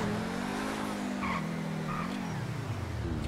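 A powerful car in GTA 5 accelerating hard, its engine note climbing and dipping through the gears while tires squeal continuously, loud and close throughout.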